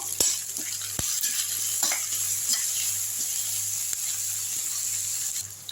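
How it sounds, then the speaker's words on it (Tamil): Garlic and curry leaves sauté in hot oil for a village-style fish curry, producing a steady soft sizzle close by with a few light taps of a spoon against the pan. "இதையும் வந்து எண்ணெயில் போட்டுடலாம். நல்லா வதக்கி விட்டுருங்க."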